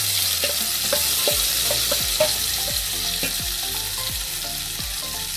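Soaked mushrooms fry over a high flame in hot oil, a steady loud sizzle running throughout, with repeated clacks of a spoon stirring against the pan and no voices.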